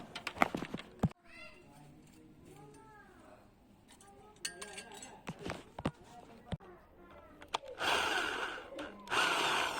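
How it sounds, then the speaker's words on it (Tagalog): An electric drill whirs in short bursts near the end, boring a hole in a small solar panel, after clattering handling noises and knocks, with a person talking intermittently throughout. "Gamit yung barena."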